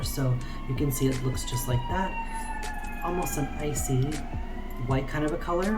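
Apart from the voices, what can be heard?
sirens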